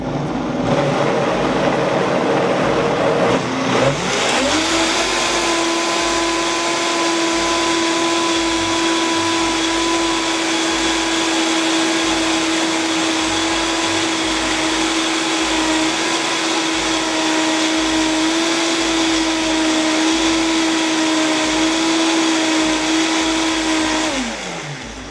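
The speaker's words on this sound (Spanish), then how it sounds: "Y vamos otra vez a batir." An electric blender starts up after a few seconds and whirs loudly and steadily while blending hot sauce, then winds down at the end.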